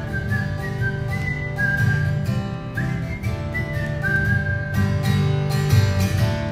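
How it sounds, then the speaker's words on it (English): Someone whistles a lilting melody by mouth, clear and close, with sliding notes and short pauses between phrases over a steady musical backing. "See if I got my whistling chops this morning."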